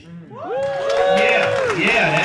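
An audience at a comedy show bursts into loud clapping, cheering and whooping, with rising shouts mixed into the applause.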